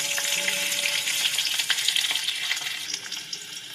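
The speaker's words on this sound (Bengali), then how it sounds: "এই তেলেই দিয়ে দেবো ফুলকপিগুলো। এইগুলো একটু হালকা হালকা লাল লাল করে ভেজে নেব।" Cauliflower florets fry in hot oil with a bright, continuous crackling sizzle, close and fairly loud, with occasional pops and spatters and no voices.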